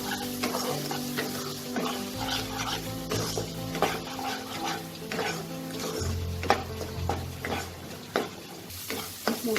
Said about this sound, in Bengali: এবার মশলাটাকে খুব ভালো করে আমি কষিয়ে নেব